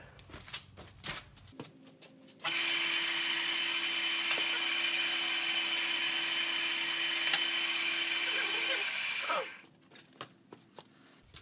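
A power tool smooths cedar knife scales for a railroad spike knife, running as one steady, loud high-pitched whine for about seven seconds with a constant tone, starting abruptly and tapering off, with small handling noises before and after.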